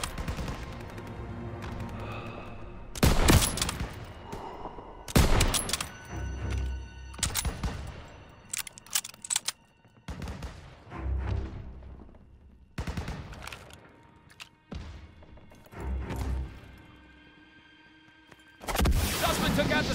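Heavy covering fire in a Call of Duty WWII battle, with repeated loud bursts of rifle and machine-gun shots separated by short pauses, and a final burst at the end. Voices shout in the background.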